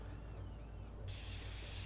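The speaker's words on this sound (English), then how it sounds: "Oh, a spray painting." Aerosol spray painting in the video game inFAMOUS: Second Son, a steady broadband hiss that bursts on abruptly about halfway through and holds loud to the end over a low background hum.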